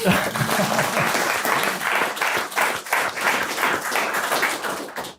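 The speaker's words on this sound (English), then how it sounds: "So, round of applause." Applause from an audience at a policy podcast event, a dense, continuous wash of many hands clapping, loud and steady throughout before cutting off at the end.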